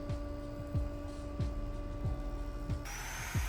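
A woodworking jointer runs along the edge of a wood board with a steady motor hum and a series of regular, evenly spaced thumps, then cuts off abruptly near the end.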